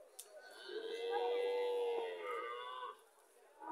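Heifer calf and cattle on a farm, with a drawn-out lowing moo swelling through the middle of the clip, close and fairly loud, over a steady barnyard background without clear talk.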